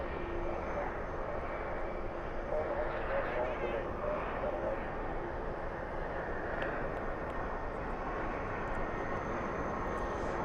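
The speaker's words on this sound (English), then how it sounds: "Qantas on the move." A Qantas airliner taxiing at DFW airport at night, a steady distant engine rumble and whine with people talking over it.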